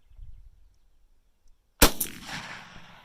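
A single .357 Magnum round fires from a 20-inch-barrel Winchester 1892 lever-action rifle as one sharp, loud crack after a quiet lead-in, followed by a short ringing decay.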